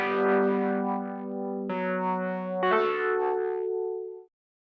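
A synth instrument in Cubasis, triggered by MIDI from the Sound Prism app, plays three sustained chord changes with an effected, chorus-like shimmer, fairly soft, ending in silence.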